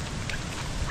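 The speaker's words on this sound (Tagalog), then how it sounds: "Lakas ng ulan, mahangin," Heavy windy rain pours steadily in a dense, continuous wash, with scattered louder drops and a brief low thump near the end.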